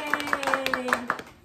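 A small group of people clap their hands at a birthday gathering, a quick burst of about seven sharp claps at a fairly even rhythm, close by and brief.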